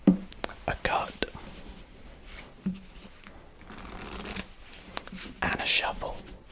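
Deck of playing cards cut and shuffled by a magician in a close, quiet setting, giving a few soft riffling bursts and taps with faint whispering in between.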